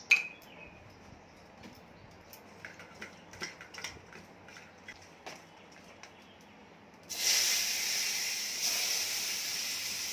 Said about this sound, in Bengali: এই তো মাছ তেলে দিলাম বন্ধুরা, তোমরা দেখো, এই যে তেল দিলাম, ভাজছি